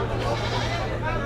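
Goats bleat among the crowd at the Ashulia livestock market, with a red goat among the animals for sale. Short bleats rise over constant nearby chatter from buyers and sellers.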